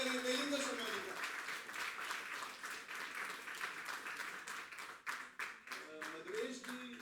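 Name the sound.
audience applause welcoming speaker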